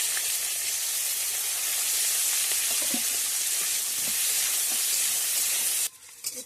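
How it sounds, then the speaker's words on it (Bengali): Onion and green chili fry in hot oil in a pan, giving a steady, close sizzling hiss with small pops and crackles throughout. Near the end the sizzle drops away suddenly to quieter clatter. "পেঁয়াজ লঙ্কাটা একটু লাল লাল করে ভেজে নিয়েছি"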